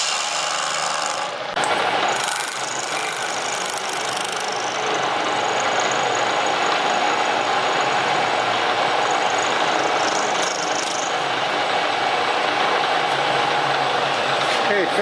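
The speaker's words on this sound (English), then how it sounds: "Cutting the groove for the new billet." A milling machine cutting a groove for a new billet on a pattern maker's vise, producing a loud, continuous harsh grinding and scraping of the cutter against metal that runs almost the whole time.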